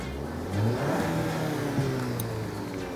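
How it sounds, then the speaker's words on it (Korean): A Maserati Levante engine revs up, a low rising growl that swells and holds, then settles back toward idle; no voices. "악셀링 해보겠습니다."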